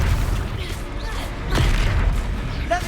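Confringo explosion spell going off in the video game Hogwarts Legacy, with several deep booming blasts and bursts in quick succession over other game sounds.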